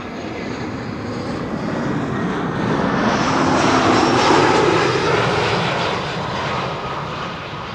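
An Air Arabia Morocco airliner at Amsterdam Schiphol gives a steady engine roar that swells to a peak midway and then eases off, broad and fairly distant, with no voices.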